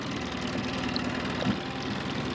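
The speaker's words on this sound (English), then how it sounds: "So I'm going to use the internal combustion engine technology to move me a little bit forward" The internal combustion engine of a small boat in the Tobago Cays runs steadily nearby with a continuous, even, throbbing drone and no pauses.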